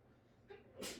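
A single sharp sneeze bursts out near the end, preceded by a brief intake of breath, in an otherwise quiet room.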